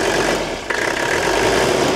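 A Mercedes car engine idles steadily with worn piston rings and heavy blow-by, a continuous close mechanical hum and rattle with a brief dip midway, no talking.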